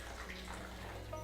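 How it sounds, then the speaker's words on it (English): Water splashes and spills steadily near the cup during a competition tea brewing demonstration, a soft continuous wash of flowing water, faint and close. "Now notice I've just spilled some water there"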